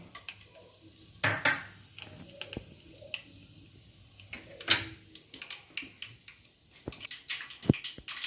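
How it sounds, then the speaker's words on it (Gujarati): Half a spoon of mustard seeds crackles in hot oil, sparse sharp pops and ticks scattered irregularly over quiet background, close and fairly soft, with no voices. "રાઈને હવે આપણે તતડવા દઈએ."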